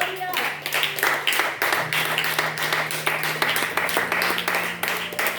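A church congregation claps their hands in a steady, even rhythm of many sharp, loud claps over a sustained musical drone.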